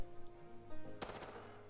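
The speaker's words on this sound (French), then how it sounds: "Allez, un petit coup de feu." A gunshot in the zombie survival game Project Zomboid: one sharp crack followed by a short rattling tail, set against a low droning game ambience, moderately quiet overall.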